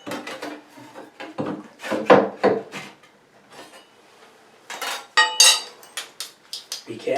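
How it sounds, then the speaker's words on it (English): A spackle knife scrapes and pries a bathroom vanity away from the wall, sounding as a run of close, sharp scraping, knocking and creaking bursts with short pauses between. "put your spackle knife behind it, underneath here. Give it a little bit of a pry."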